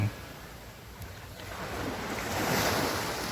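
Surf washes onto the shore at Hat Sai Kaew beach with a soft rushing roar that swells louder toward the end, with gusts of wind buffeting the microphone.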